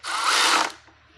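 A power tool whirs in one short burst of just over half a second while snugging down fork clamp bolts on a Harley-Davidson motorcycle, close and fairly loud, then stops abruptly into near silence.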